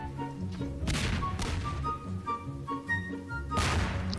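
Explosions in the video game Melon Bomber, several loud bursts with sharp booms near the start and end, spaced irregularly over a busy game soundtrack.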